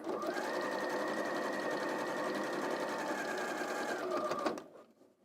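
Sewing machine stitching the final seam of a quilt block, a loud, close, rapid steady run of needle strokes that holds for about four seconds, then stops abruptly into near silence.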